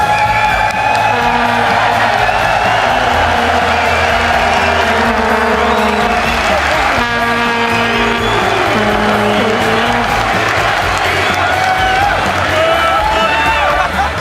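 Live esports audience at a League of Legends match, cheering, whooping and applauding continuously and loudly throughout, with dense crowd roar and some tonal music or announcer sound mixed in.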